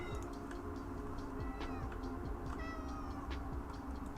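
A cat meows in repeated short calls close to the microphone, over a steady background hum, with faint ticking in the room and no talk.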